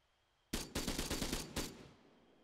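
A rapid burst of automatic gunfire in Arma 3, about eight sharp close shots in quick succession, then a short decaying tail.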